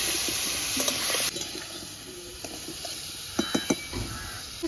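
Spices with salt and turmeric are sautéed in a pan, giving a soft, steady sizzle as a utensil stirs them. A few light clinks and taps against the pan stand out near the end.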